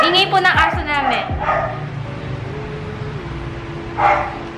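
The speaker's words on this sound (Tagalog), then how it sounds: "Ingay po ng aso namin." A dog barks and yips in a quick burst near the start, then a single bark follows after a pause, with a voice speaking.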